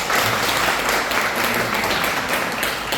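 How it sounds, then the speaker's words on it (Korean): A room full of people at a Lions Clubs forum in a large conference hall applauds, dense steady clapping at moderate loudness that carries on without a break. "잘하셨다는 박수 한번 쳐주시죠."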